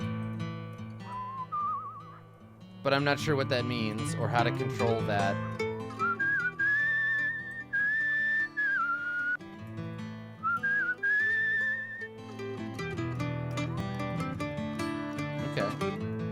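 A game character whistles a wandering tune while walking through Where the Water Tastes Like Wine, the melody rising and falling over soft background music, with someone talking in between.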